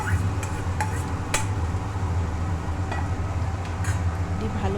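Raw papaya, already mashed, is stirred in a pan with onion, green chilli and garlic, giving steady close scraping and clinks of a spatula over a low background hum.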